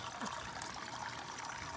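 Water trickling and splashing steadily through a series of cascading duck pond tubs, a faint continuous babble with no voices.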